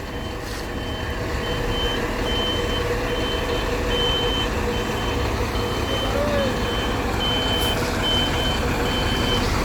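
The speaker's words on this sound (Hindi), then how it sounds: "गाड़ी आ गई" A truck backs into a village yard, its reversing alarm beeping in a steady repeated rhythm over a continuous engine rumble, with people talking faintly nearby.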